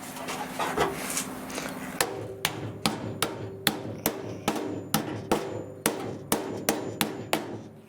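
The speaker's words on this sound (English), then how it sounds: "I can come back and hammer that other part flat" Hammer blows flattening a welded metal part, about ten sharp ringing strikes in a fairly steady rhythm after a short stretch of scraping and shuffling, close and clear.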